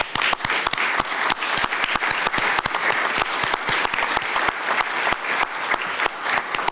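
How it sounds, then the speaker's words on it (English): Sustained applause from the audience at a county commissioners' board meeting, dense steady clapping that holds at an even level throughout with no talking over it. "Can we give them a round of applause?"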